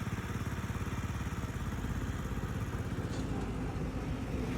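Wmoto RT2 scooter engine running steadily after starting, a continuous close, loud low pulsing idle with a slight clatter.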